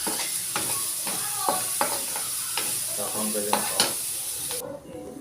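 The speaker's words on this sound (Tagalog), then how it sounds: "Sinisa ko na yung sibuyas, bawang, tsaka yung siling pansigang." Onion, garlic and chili peppers sautéing in oil in a pan, giving a steady sizzle broken by repeated stirring scrapes and clinks, until the sizzle suddenly drops off near the end.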